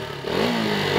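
A KTM Duke 200 single-cylinder motorcycle engine revs up close and loud, with a rough, uneven tone climbing steadily over about a second.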